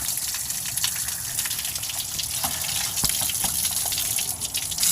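Clear water gushes steadily and loudly out of a flushed pipe after a garden hose is removed, a continuous splashing rush with no voices.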